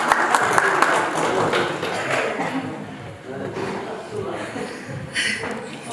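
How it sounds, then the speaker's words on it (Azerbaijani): An audience at a Ramadan charity concert for elderly people applauds with dense, sustained clapping that thins toward the end, with a voice faintly mixed in. "Alqışlayaq."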